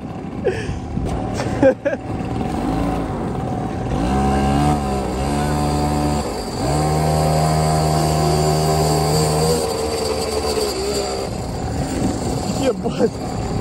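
Mini motorcycle engine accelerating, with rising whining revs that climb in pitch through several gear-like steps and hold loud, while people talk over it.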